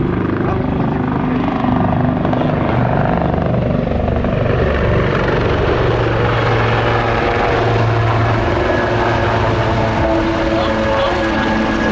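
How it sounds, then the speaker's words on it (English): Lynx helicopters in formation at the Southport Airshow, the steady rotor thrum and turbine whine loud and continuous throughout as they perform a nose-over, with a commentator's voice faintly over the engine noise. "Here we go for the formation nose over."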